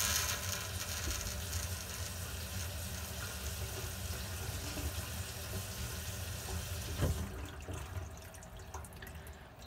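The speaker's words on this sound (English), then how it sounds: "if I turn the water on that it flows more steadily" Water from a Delta kitchen faucet runs through a leaking sprayer hose in a faint, steady hiss and trickle, with a small clunk near the end.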